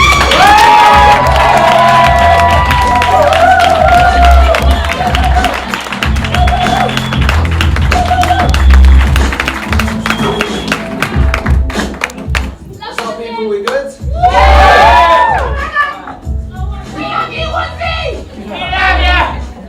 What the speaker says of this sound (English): Can we have a big round of applause for Woodzy?